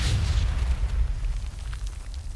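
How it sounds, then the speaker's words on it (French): Grenade explosion in the online mode of the Ghost Recon video game, a loud, continuous low rumbling boom filling the whole stretch with no talk over it. "il y a une grenade les gars"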